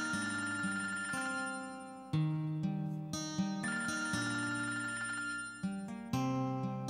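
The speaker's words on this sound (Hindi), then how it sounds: "रफ़त का फोन आ रहा है" A telephone rings with a steady electronic melody, a repeating ringtone pattern of bright tones that plays loudly and continuously.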